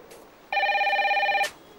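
A telephone gives a single electronic ring of about one second, clear and fairly close against a quiet room.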